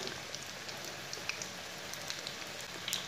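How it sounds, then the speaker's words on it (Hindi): Onion pakoras fry in hot oil with a constant close hiss and scattered small pops and crackles, faint but steady, with no voices. "अब इसे फ्राई कर लेंगे।"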